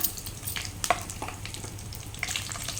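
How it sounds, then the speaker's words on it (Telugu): Whole spices, including cinnamon and shahi jeera, frying in hot oil for a mutton curry gravy, giving a steady soft sizzle with a few brief clicks and stirring scrapes. "ఆయిల్ హీట్ అయింది మసాలాలు వేసుకుందాం చెక్క సాజీరా"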